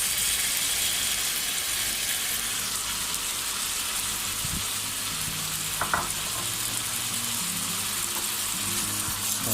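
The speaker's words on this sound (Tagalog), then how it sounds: "Kalipas ng 3 minuto, ilagay na natin ang ating beef." Beef with onion and garlic sizzles steadily in a hot pan, a constant broadband fry with a few stirring clinks near the middle and no voices.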